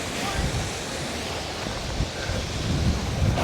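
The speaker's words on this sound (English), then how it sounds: "Kind of windy." Wind blows outdoors around a tree at a ranch, a steady, loud rushing gust that buffets the microphone with low rumbles throughout.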